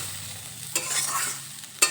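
Radish greens stir-fried in a pan give a constant hiss of frying, broken by two sharp spatula scrapes, one midway and one near the end, with no voices.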